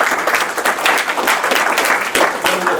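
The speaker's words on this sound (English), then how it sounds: "I just want to ask if we could give a round of applause to all of the folks who were here" A room full of attendees at an Oregon education board meeting breaks into steady, dense applause, sustained clapping close and loud with no talk over it.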